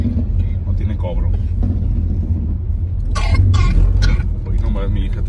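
A girl with a cough gives a short burst of harsh coughs partway through, close by inside a moving car on a highway trip from Guadalajara to Pátzcuaro, over the constant low rumble of the road.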